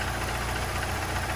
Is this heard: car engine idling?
yes